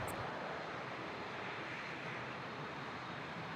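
A Dash 8 turboprop at Toronto Pearson airport, a distant, faint engine rumble droning steadily as a broadband wash, with no talk.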